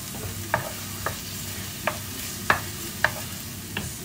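Sliced onion caramelizing in a pan with a tablespoon each of sugar and balsamic vinegar, with a faint steady sizzle under half a dozen sharp spatula taps spaced unevenly, each one close and distinct.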